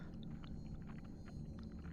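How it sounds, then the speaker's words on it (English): Wet crunching, smacking chewing noises play in a horror video game, a dense, continuous muffled churn under a low rumble with scattered sharper clicks, with no talk over them. "crunching, smacking, like the sound of saliva as someone chews."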